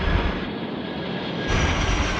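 A large Atlas Air cargo jet on short final to runway 25 at Sydney Airport on a windy day, its engines a steady, loud broadband roar that swells slightly toward the end, with no talk over it.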